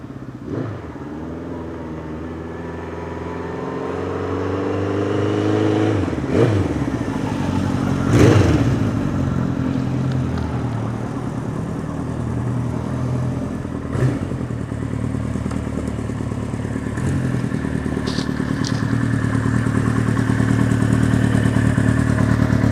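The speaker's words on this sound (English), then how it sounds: "these exhausts sound fantastic" A pristine 1974 Kawasaki Z1 900 vintage superbike rumbles at idle, then its engine and exhausts rev repeatedly in loud, throaty bursts, with a few mechanical clatters and thumps, close by and without talk.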